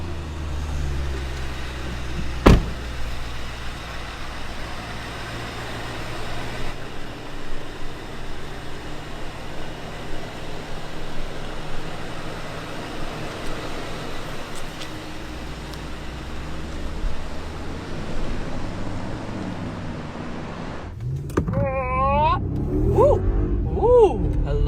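A Mercedes-Maybach SUV with a 4-litre V8 of almost 560 horsepower runs as a steady, broad engine and road rumble for about twenty seconds after starting, then a voice talks over it near the end.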